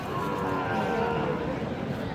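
Cattle lowing at a rural cattle market in Ranigonj, Dinajpur, Bangladesh, a drawn-out moo over a dense background of crowd noise.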